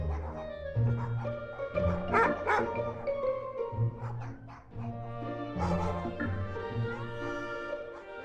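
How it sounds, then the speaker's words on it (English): Several dogs in a shelter's dog sanctuary within a video game bark and yip in overlapping, repeated bursts, loud and close, with some whimpery tones and no talking. "The dog sanctuary of the shelter."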